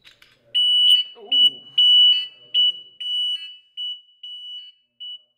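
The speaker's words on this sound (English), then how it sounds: "Insert batteries and make a theft alarm to make the siren connect to the server." A Reconeyez battery-powered security siren unit sounds its theft alarm in a series of loud, shrill electronic beeps, uneven in length at first and then shorter and more evenly spaced. Some faint handling noise is heard beneath the early beeps.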